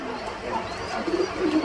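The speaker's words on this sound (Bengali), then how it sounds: "এখানেও আরেক জোড়া লাহোরি কবুতর" Lahori pigeons, a red pair, coo softly at a pigeon farm, low murmuring calls rising slightly toward the end over a faint room background.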